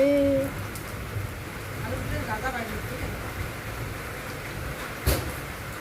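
Afternoon rain around half past two falls as a steady, moderately loud wash of noise, with a brief voice at the start and a sharp knock near the end.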